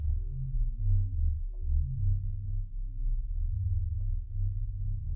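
Deep, dark synth drones from a Korg Wavestate synthesizer, with a heavily filtered low tone and soft pulsing swells, washed in reverb, with no voices.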